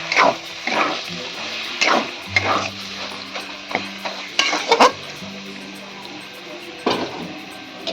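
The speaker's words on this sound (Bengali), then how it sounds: "বেগুনগুলো দিয়ে ভালো করে আমি ভেজে নেব।" Eggplant pieces fry in a hot pan, a loud close sizzle punctuated by frequent scraping and clattering strokes of a spatula turning them.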